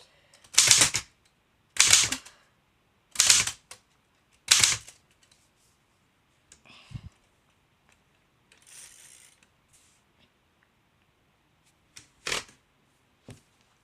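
Bursts of typewriter typing come in four quick clattering runs about a second apart, then scattered softer clicks and rustles before a final short burst, close and alone with no talk.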